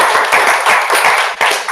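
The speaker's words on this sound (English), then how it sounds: "Let's give another round of applause." A short, close burst of clapping from a conference audience, a loud, dense patter of hands that dips briefly near the end and then resumes.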